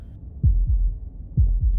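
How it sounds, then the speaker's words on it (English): Two pairs of deep, thudding heartbeats from the video game Slay the Princess, each a lub-dub double pulse, loud and close over a low hum with no talking. "That was the sound of a heartbeat,"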